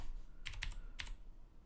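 A few sharp clacks of typing on a computer keyboard, three distinct keystrokes close together, faint and near over a low background hum.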